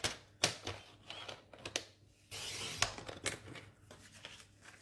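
Scissors cutting paper for an advent calendar craft, quiet close snips and rustles in an uneven sequence, with a longer soft slicing stretch midway and no speech.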